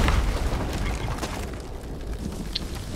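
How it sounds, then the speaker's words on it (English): A gunpowder barrel blows up aboard a brigantine in Sea of Thieves, a loud broad blast followed by a rumbling, crackling tail of debris and fire that slowly fades. "we got one gunpowder barrel right next to the back mast on the brigantine"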